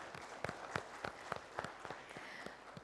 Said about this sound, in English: Let's begin this morning with a huge round of applause